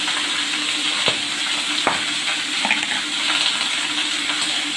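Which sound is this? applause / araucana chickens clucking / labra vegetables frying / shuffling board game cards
labra vegetables frying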